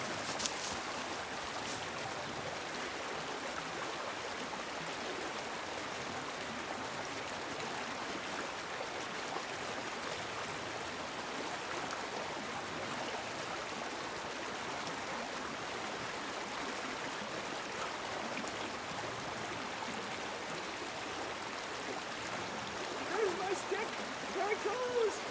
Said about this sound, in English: this is a pretty fast little brook, so we're gonna have to be fast